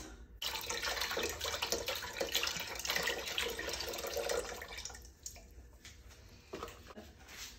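Water pours steadily into a pot of chicken and dumplings for several seconds, a continuous splashing rush that eases slightly near the end.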